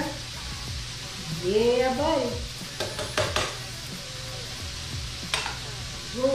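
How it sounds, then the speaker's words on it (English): Red beans and rice ingredients sizzling in a pot, a soft frying hiss with stirring scrapes and clinks of a spoon against the pot, close by, with someone speaking briefly over it. "That sizzle."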